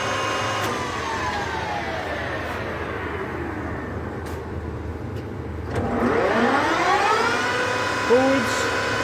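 A Colchester Triumph 2000 centre lathe runs in reverse at 1500 RPM, its steady mechanical whine gliding down in pitch and then sweeping back up as the spindle speed changes, close and fairly loud.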